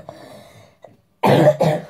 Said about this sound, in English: Sorry guys, the cough is still here with us.